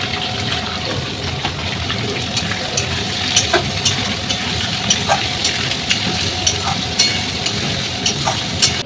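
Spices with potatoes and tomato sautéing in a home kitchen pan with a splash of water, a steady close sizzle and bubbling with soft scattered clicks of stirring throughout.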